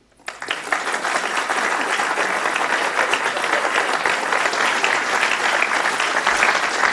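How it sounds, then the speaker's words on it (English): Conference audience bursts into loud applause, a dense, sustained roar of many people clapping that swells in quickly from silence and holds steady for several seconds. "if you think this conference today has been really worthwhile for you to attend, you applaud now"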